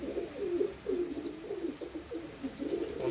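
Pigeons in a loft coo repeatedly, a steady run of soft rolling calls close by, with no voices.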